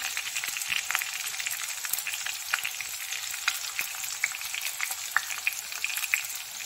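A white spice mix sizzles in hot oil in a pan for vegetarian mochar ghonto, a steady close frying hiss broken by small crackling pops, with no talking.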